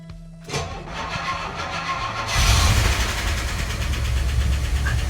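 A car engine cold starting after its fuel pressure builds, with a brief cranking lead-in that catches into a louder, steady idle with a slightly tappy, busy mechanical rattle, close to the microphone.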